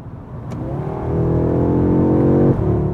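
A 2022 Audi S3 engine revs up sharply, climbing and holding a raspy mid-pitched note before dropping off. The sound is close, loud and alone, with a brief click just before the rev begins.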